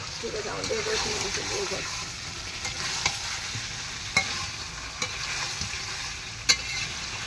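Chicken pieces fry in a pan at home with a steady, moderate sizzle, broken by a few sharp clicks and scrapes of a utensil; a voice murmurs briefly near the start.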